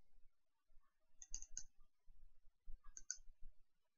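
Quiet computer mouse clicks come in two small clusters of quick taps, close but soft, against near-silence.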